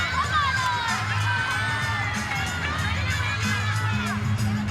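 A gymnastics team and crowd cheer at a college meet, loud overlapping shouts and whoops that go on without a break, with voices talking underneath.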